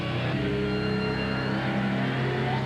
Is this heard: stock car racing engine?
yes